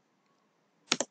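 Two quick clacks of keys pressed on a computer keyboard while entering a PowerShell command, close and crisp after near silence, with no talking.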